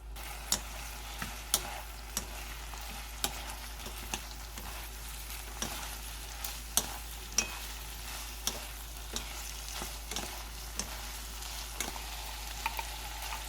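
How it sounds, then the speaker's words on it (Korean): Eggplant and beef stir-fry in a pan, giving a soft steady sizzle broken by regular scrapes and taps of the spatula. It is fairly quiet with no voices. "소고기의 붉은색이 보이지 않을 때 가지를 넣어서 1분간 볶아줍니다."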